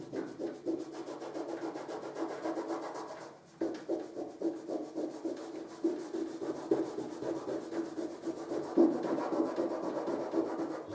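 Repeated scrubbing strokes on a wall coated in washable matt paint, a steady close rasping rub with brief pauses, firmer passes toward the end, no voices.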